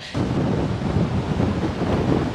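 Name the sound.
strong wind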